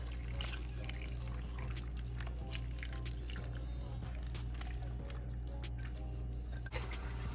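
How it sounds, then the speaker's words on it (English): Cornstarch liquid pours and drips quietly over a pot roast in a slow cooker in a steady trickle, with faint squishy sounds and no talking. "we're just gonna pour this all over the top"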